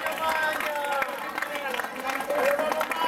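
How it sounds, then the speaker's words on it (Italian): Crowd applause at a singing contest final during a summer tour event in Millesimo, dense continuous clapping from a sizeable audience with scattered voices mixed in. "Un applauso per favore, grazie."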